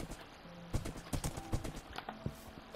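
Horse hooves clip-clopping in Minecraft, a run of quick, sharp clops in uneven bursts close by, with a few soft tonal game sounds in the background.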